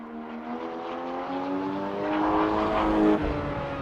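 A 1992 Mitsubishi 3000 GT engine revs steadily, its tone climbing smoothly in pitch as it builds, heard alone and fairly close with no voices.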